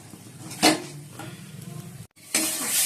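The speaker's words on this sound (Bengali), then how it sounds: "এবার মশলাটা ভালোভাবে কষে নিচ্ছি।" A spice paste for egg curry sizzles in a pan as a spoon scrapes and stirs it in short, uneven bursts, with a brief pause before the frying hiss swells again.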